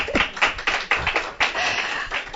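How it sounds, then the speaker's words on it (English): Studio audience clapping for two guests, a small group's irregular claps that run into a steadier patter of applause. "let's give a round of applause for both of our guests"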